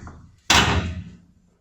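A hatch on an 85-year-old steel boat slams shut in one heavy, loud metallic thud after a brief soft shuffle, its boom ringing out and fading over about a second.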